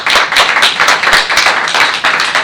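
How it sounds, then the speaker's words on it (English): Warm round of applause from a seminar audience welcoming a presenter before his talk on particulate composite materials, dense steady clapping from many hands at close range throughout. "after a warm round of applause"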